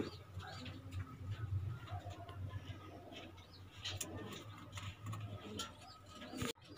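Racing pigeons on a loading and release day in La Paz, Tarlac, give faint, low cooing amid a quiet, busy background, ending in a sharp brief knock.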